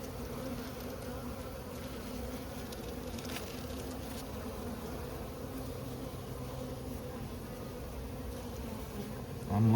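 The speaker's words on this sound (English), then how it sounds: "so many bees" A dense honeybee colony exposed during a cutout hums steadily and close, thousands of wings making a continuous even buzz with no voices.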